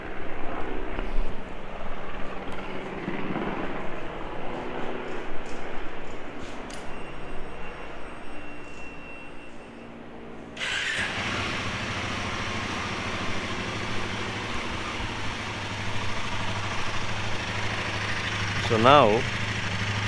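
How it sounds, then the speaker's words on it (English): A Himalayan 450 motorcycle engine idles with a suspected timing chain noise, a steady mechanical running sound that grows louder and fuller about halfway through, with brief talk near the start. "I'll make you guys listen to the engine noise"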